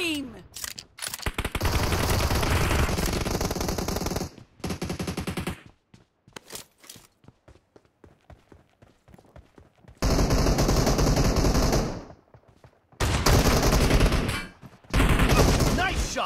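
Shotgun blasts from PUBG Mobile, loud and close, in dense bursts that fill several long stretches, with quieter gaps of scattered softer shots in between.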